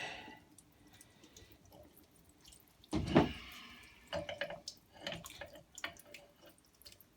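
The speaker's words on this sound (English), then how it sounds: "A little bit of water siphoning through there, I think." Water from a disconnected marine hot water fitting, a soft trickle and scattered drips with one louder splash, close and faint, without voices.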